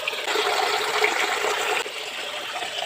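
Water flows through a hose from a repaired pipe in a shallow, gravel-filled spot, a loud, steady rushing gush that holds for the whole stretch with only a slight dip near the end.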